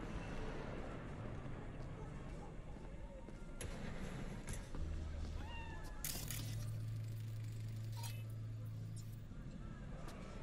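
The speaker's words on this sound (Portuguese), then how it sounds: "Olha o gatinho aí." A cat meowing in the video game Cyberpunk 2077, a few short, faint calls under steady game ambience and engine-like hums, with some clicks.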